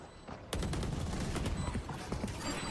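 Gunfire in Valorant during a VCT Champions 2023 match between LOUD and NAVI, including Operator sniper rifle shots: a sudden loud burst of shots and clatter after a quieter start, dense and close, with a caster's voice underneath.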